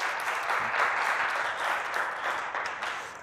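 A church congregation claps during a sermon, a short burst of steady, dense applause that holds evenly and fades a little toward the end.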